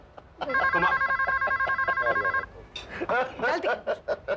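A home landline telephone rings with a rapid electronic trilling burst lasting about two seconds, loud and close, before a voice comes in talking indoors.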